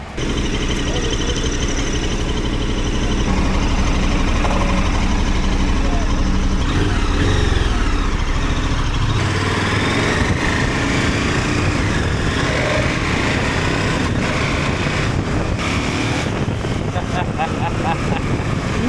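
A KTM 1290 Adventure S motorcycle on a test ride, its engine droning loudly and steadily while strong wind rush buffets the microphone, the pitch shifting partway through as the bike changes speed.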